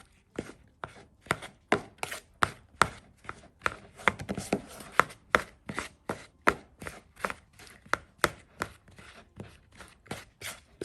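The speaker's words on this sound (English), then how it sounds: "going to cut up the fat into large chunks, coating it with the flour" A knife cutting cold fat into large chunks on a board while making rough puff pastry, a brisk regular series of sharp, close chopping knocks, about two per second.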